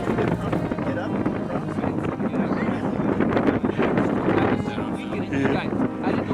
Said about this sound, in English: The wind's this loud